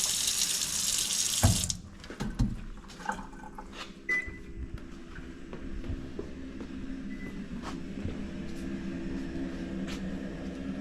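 Water gushes loudly from a tap for about a second and a half after an on-demand water heater flush, then a quieter steady flow continues with a few clanks and thumps.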